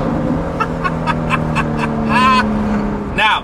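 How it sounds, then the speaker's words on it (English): Ferrari F12 V12 engine revving in a short underpass, with sharp rising bursts of revs over a steady engine drone, loud and close, echoing off the walls. "There's no V12 that sounds like a Ferrari V12."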